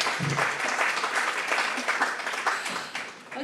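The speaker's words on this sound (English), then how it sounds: "Can we give them a round of applause?" Steady applause from a conference audience after a presentation, many hands clapping at moderate loudness, tapering slightly near the end with faint voices underneath.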